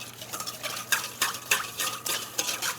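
A whisk beats oil into a vinaigrette in a bowl, working the emulsion back together with quick rhythmic scraping strokes, close and fairly quiet, with no talk.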